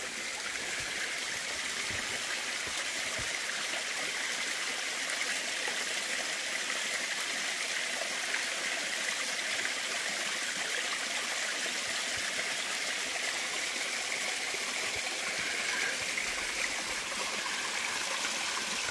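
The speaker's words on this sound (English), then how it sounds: "Copper Canyon Creek." Copper Canyon Creek rushes steadily in a constant, loud broadband wash of flowing water, uninterrupted and without voices.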